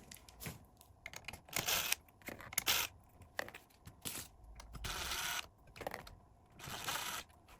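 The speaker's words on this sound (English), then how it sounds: "Now we need to take these 4 screws out." Four screws being removed from the radio carrier of a 2011-2013 Jeep Grand Cherokee: close, quiet bursts of clicking and ratcheting scrapes from a hand tool, with short pauses between them.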